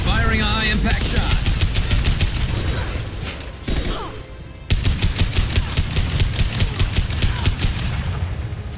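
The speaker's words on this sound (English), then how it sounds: "Firing a high-impact shot." Heavy weapon fire in Mass Effect 2 from a male Soldier fires high-impact rounds in loud, fast, evenly spaced bursts, with a brief pause before a second rapid volley rattles on.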